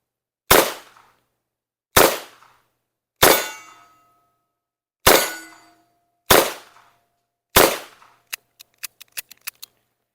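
Revolver shots fired at steel targets, six loud cracks spaced a second or two apart with some ringing clangs from hits, followed by a quick series of sharp metallic pings.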